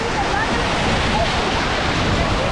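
Waterfalls in Hawaii pour down beside a built walkway, giving a steady, loud broadband rush of falling water that fills the whole stretch without letup.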